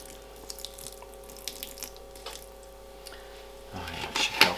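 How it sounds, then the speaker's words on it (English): Water poured into a plastic tub for incubating snake eggs, a faint trickle with soft drips under a steady hum, rising to a louder splashing pour near the end. "Just put a little bit more water in there"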